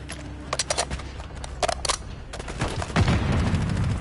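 Call of Duty gunfire: scattered sharp rifle shots and short bursts crack out in an irregular rhythm, then a heavier boom swells into a rumbling barrage near the end.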